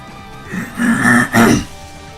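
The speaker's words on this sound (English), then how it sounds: "Just clear my throat." A single short throat clearing from a voice in a game cutscene, two gruff bursts close to the mic.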